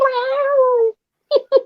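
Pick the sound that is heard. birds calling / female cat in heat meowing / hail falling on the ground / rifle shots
female cat in heat meowing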